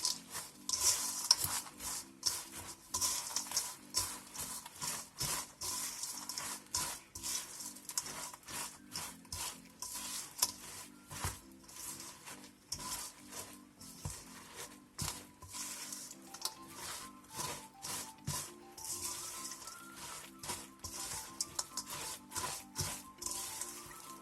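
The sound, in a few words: stirring chocolate salami mixture with milk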